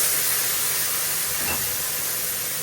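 Turmeric powder and spice paste fry in a pan for a fish curry, making a loud, continuous close sizzle with no breaks and no talking.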